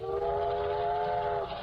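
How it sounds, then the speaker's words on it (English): A steam locomotive whistle sounds in an old radio drama, a single steady, chord-like blast about a second and a half long, fairly faint against low rumble. "behind that iron monster with its hiss of steam and its great proud plume of black coal smoke curling away in the wind down the length of the train"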